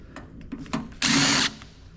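A power drill unscrews screws from an old traffic control system box. A few light clicks come first, then a single close, loud half-second whir, followed by faint rattling.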